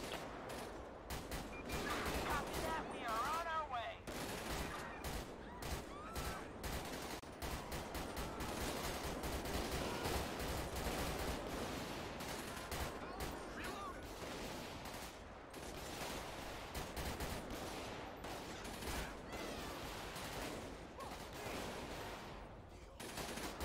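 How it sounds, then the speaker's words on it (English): Sustained rapid gunfire and bursts fill a busy LSPDFR police shootout on Innocence Blvd in a video game, dense and loud throughout with someone talking over the shots. "he's shooting at everybody right now"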